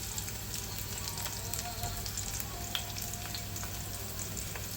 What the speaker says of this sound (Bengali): তেলের মধ্যে আমি পেঁয়াজ কুচি দিয়ে দিচ্ছি, কাঁচামরিচ ফালি